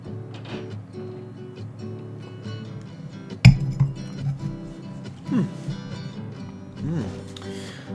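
Glasses of Rogue River Brewing autumn IPA clink together in one sharp toast, a single bright chime rising over steady conversation and background noise, followed by a few softer knocks.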